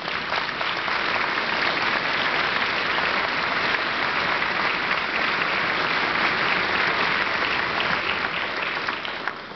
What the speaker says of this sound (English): give your own directors a round of applause